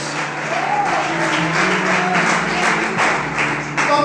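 A church congregation applauds louder during worship, several seconds of thick, steady clapping filling the hall with low musical tones beneath.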